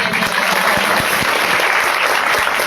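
Devotees at a devotional vegetable festival gathering clap together in dense, loud, sustained applause that fills the whole moment without pause.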